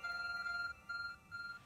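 A phone in Pokémon Legends: Arceus rings with a steady, beeping electronic tone in three short repeated bursts. The ringing is faint and plays alone, with no talking.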